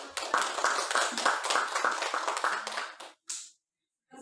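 A small audience applauds at a teachers' school presentation, a dense burst of clapping for about three seconds that stops abruptly, followed by a short final patter and silence.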